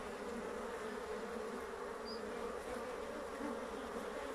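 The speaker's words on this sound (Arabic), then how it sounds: "نشوف هون النحل اللي جاي من برا" Honeybees flying in from outside a hive, a dense steady buzzing hum of many insects close by, continuous and even throughout, with no voices.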